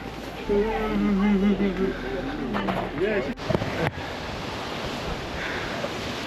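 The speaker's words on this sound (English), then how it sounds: "this is the Bridalveil's hike and waterfall right behind me." Bridalveil Fall in Yosemite roars as a steady, broad rush of falling water on a humid, cold day, with a person talking over it at first before the continuous roar carries on alone.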